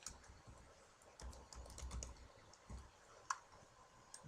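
A search term typed on a computer keyboard: a handful of soft, close key taps in an irregular cluster over faint room noise, with a couple of sharper clicks toward the end.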